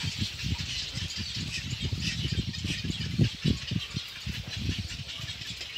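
Birds squawk and bicker among themselves in a series of harsh, rattling calls and short squeals at moderate distance, with a faint hiss of background noise behind them and no clear talking.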